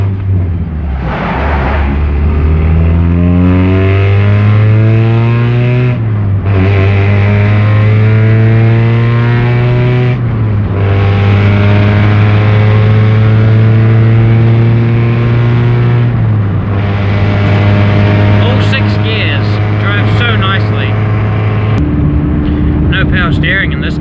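A race-prepared Mazda MX-5 with a stock engine revs hard on a night drive, its loud, close droning pitch climbing repeatedly through several gear changes with short dips between each shift.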